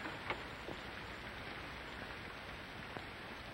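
Steady rain in a 1940s film-noir scene, a soft, even hiss with a few faint drip-like ticks, quiet and continuous with no talk.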